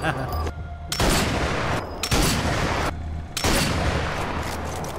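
Gunfire in the video game Sniper Elite 4, a burst of several loud, sharp shots in quick succession, each followed by a brief gap before the next volley.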